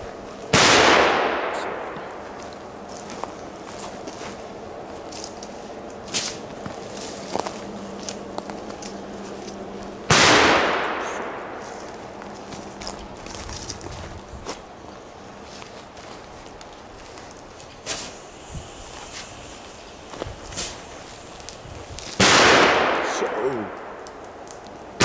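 Belgian firecrackers and small fireworks go off outdoors: three sharp, loud bangs spaced about ten seconds apart, each with a ringing decay, while smaller pops and crackles fill the gaps.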